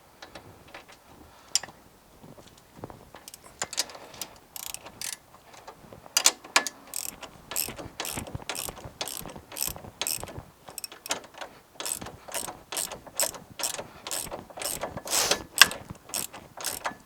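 A ratchet clicks in rapid bursts while loosening an 18 mm shock bolt on a Can-Am Maverick Sport, with sharp repeated clacks growing steadier and denser in a quiet workshop.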